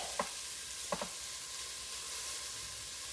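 Onions sauteing in a pan for a vegan casserole make a faint, even hiss, with two quick utensil taps early on and no talking.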